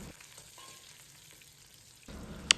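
Pork belly slices stir-fry in a hot wok with ginger slices and chopped scallions. The quiet hiss swells near the end and ends in a single sharp clack of a utensil against the wok.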